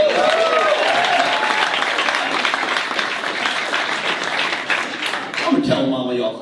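A comedy club crowd at Helium Comedy claps loudly and steadily for several seconds, with some cheering mixed in before the applause thins out near the end.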